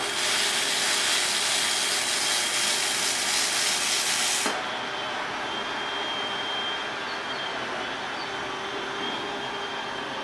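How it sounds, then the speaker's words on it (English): A Shark steam mop releases steam in a loud, steady broadband hiss that cuts off abruptly partway through, leaving a quieter hiss that continues after it. "you hear that noise? It's the steam option."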